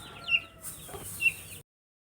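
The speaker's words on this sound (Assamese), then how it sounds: "কণী পাৰিবলৈ ঘূৰি ফুৰিছে তাই।" A hen looking for a spot to lay eggs gives two short, close clucks about a second apart, followed by quiet.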